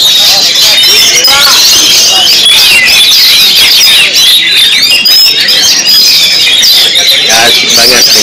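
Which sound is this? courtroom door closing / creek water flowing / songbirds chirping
songbirds chirping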